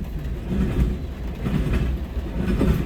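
A CN freight train rumbles past close by at Ladysmith, with a continuous low roar and faint rhythmic rattling of wagons over the rails.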